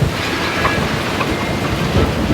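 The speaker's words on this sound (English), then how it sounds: "Here's the rain that we've been waiting for." Dense, steady roar of heavy rain pouring down continuously during a storm at sea off the Bahamas, with low rumbling underneath that suggests thunder; no voices.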